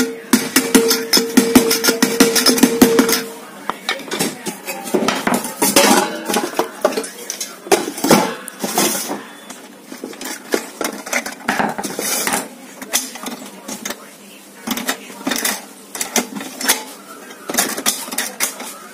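A magnet is fitted to the heating plate of a rice cooker during a coil replacement, producing a busy run of close metallic clinks, taps and rattles of handled parts with brief pauses.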